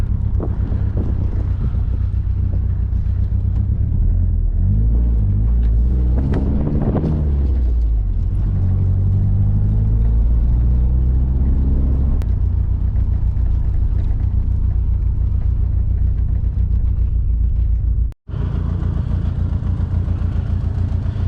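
A turbocharged second-generation DSM car, lowered very low, drives with a steady, loud engine drone and wind rush that runs throughout, cutting out for a split second near the end.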